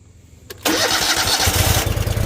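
A riding lawn mower engine cranks briefly, then fires and catches, settling into a loud, close, rough running idle.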